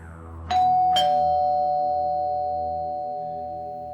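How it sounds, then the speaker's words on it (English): Doorbell chime in an audio drama: two crisp strikes about half a second apart, then a long sustained ringing tone that slowly fades, loud and alone with no talk. "rings the doorbell"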